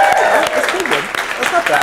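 At a Startup Grind NYC event, an audience claps and cheers, a brief busy burst of applause and whoops mixed with speech-like crowd voices, fairly loud and close.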